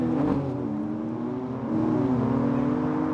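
A BMW M3 CS and an Audi RS4 launch side by side in a drag race, their engines roaring loud and close with a steady, rising revving drone.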